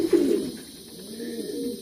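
A pouter pigeon coos close by in a few low, rolling throaty notes at a pigeon show, with no other sound around it.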